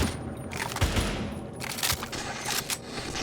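Gunfire in the Stalcraft X shooter game, a dense run of loud, close shots and bursts that keeps going for about three seconds over a rumbling background.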